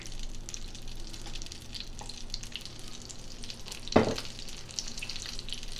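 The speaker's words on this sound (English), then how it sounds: "as the moisture goes out of the butter, you'll know then that it's ready when it stops sizzling" Butter sizzles gently in an aebleskiver pan over moderate heat, a soft steady crackle with a sharper pop or scrape near the middle, heard alone.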